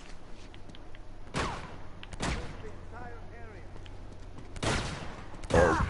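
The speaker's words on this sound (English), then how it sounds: "who's shooting me?" Uncharted 2 gameplay gunfire: a few loud, sharp shots spaced seconds apart over a low rumbling game background, with a voice briefly speaking between them.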